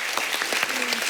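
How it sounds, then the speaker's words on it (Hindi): Applause from a studio audience on a cricket-themed Hindi television show, a brief burst of loud, dense clapping heard close up. "तो इन दोनों के लिए जोरदार तालियां।"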